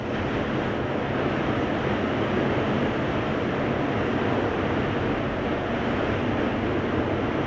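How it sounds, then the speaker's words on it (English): Steady, roaring wind noise fills a swaying cable car gondola crossing the Thames in London without pause, a constant broadband rush with no voices or distinct events. "you can also really hear that wind coming through the gondola as it sways"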